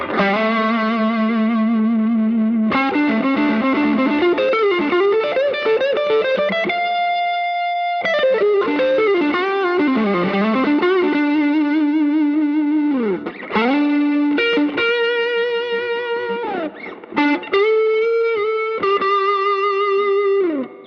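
A warm, effects-laden PRS SE Silver Sky electric guitar on the neck pickup plays a flowing melodic line with chorus and delay, notes bending and sliding, sustained and smooth throughout.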